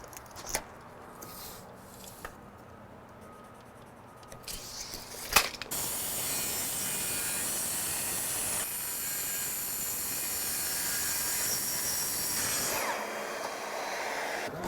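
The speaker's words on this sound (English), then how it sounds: "we'll go to the track saw, rip those down" Track saw ripping wood panels for an accent wall, a few clicks and knocks before the blade spins up into a loud, steady whining rip lasting several seconds, then cutting off abruptly.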